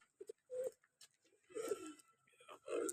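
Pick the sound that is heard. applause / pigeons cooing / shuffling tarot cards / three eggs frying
pigeons cooing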